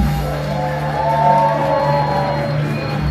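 A comedy club audience in Phoenix at a stand-up show cheers, whoops and shouts together for several seconds, a loud sustained crowd roar with scattered high yells.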